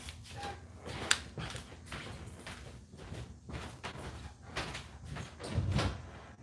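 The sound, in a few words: door being opened to let someone in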